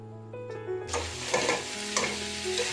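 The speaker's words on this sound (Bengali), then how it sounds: "চিকেনটাকে আমরা ঢাকা দিয়ে কষিয়ে নেব, কিন্তু মাঝে মাঝে আমরা নেড়ে দেবো যাতে তলা থেকে ধরে না যায়" Chicken for chicken do pyaza is stirred and fried in a pan, a bright, loud sizzle bursting in after a quieter tonal start, with a couple of scraping stirs close by.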